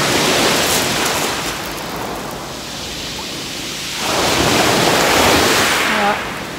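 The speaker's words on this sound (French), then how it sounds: "on aura le bruit de la mer" Sea waves washing onto the shore at the water's edge in mid-afternoon, a loud, steady broadband roar with a swelling surge partway through, with no talking heard over the surf.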